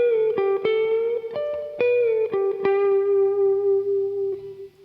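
Distorted electric guitar plays the opening phrase of the first solo, sustained singing notes with bends and picked attacks, drenched in effects and reverb, loud and close with no talking.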